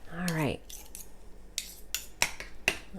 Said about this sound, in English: Just going to get those thoroughly mixed up there. All right. I'll just use this spoon now.